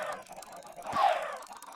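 Chickens cluck in Minecraft, a short burst of game fowl sounds rising near the middle and fading, fairly close and moderately loud with no talk over it.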